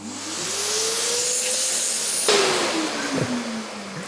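A vacuum cleaner pulls a pull line through 20 mm electrical conduit on a building site. The close, continuous suction whine rises in pitch, then shifts abruptly midway as the line shoots through.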